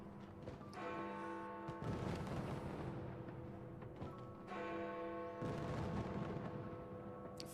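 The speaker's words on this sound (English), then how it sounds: "Fireworks. Wonderful." Fireworks burst outside on New Year's Eve as a few heavy, rumbling booms with crackling tails, heard from indoors and blended with steady ringing tones.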